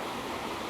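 Curtis Falls at Mount Tamborine pours in a brief, steady, broadband rush of falling water, loud and close, with no break and no voices.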